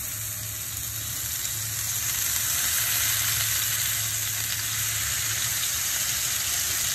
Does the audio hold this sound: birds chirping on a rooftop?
no